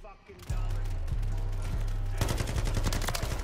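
Sakin MG38 machine gun in the game Modern Warfare III, sustained rapid automatic fire in a tight steady rhythm that grows denser and louder partway through, heard close up with no pause.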